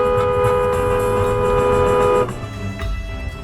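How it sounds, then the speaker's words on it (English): A car horn honks steadily for about two seconds over road and engine noise during a roadside pull-over, then cuts off, leaving the rumble of traffic. "I pull over to let him by, but not without a honk to make a point"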